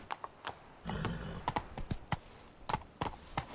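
Roach the horse galloping in The Witcher 3, quiet rhythmic hoofbeats in quick clip-clop pairs with a brief rustling burst, moderately distant and unaccompanied by talk.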